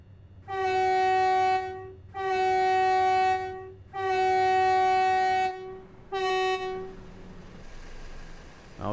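Night train in Train Sim World 3 sounding its horn four times as it nears the Gillingham level crossing, three long loud blasts and a shorter fourth, then rumbling motion afterward.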